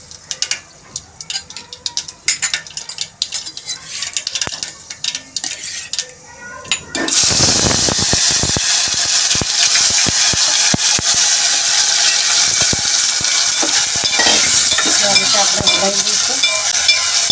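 Mustard seeds and asafoetida hit hot oil for a tempering for sev tomato sabzi, bursting into a loud, continuous sizzle that fills the rest of the clip after a few seconds of clinking utensils and stirring.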